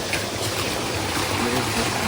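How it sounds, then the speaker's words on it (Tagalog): Small mountain stream flowing along a bamboo-lined trail: a steady, broadband rushing and trickling water sound, continuous and moderately close, with no talk. "Maliit na ilog."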